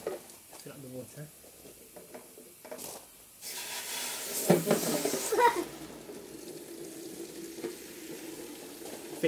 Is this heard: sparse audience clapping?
no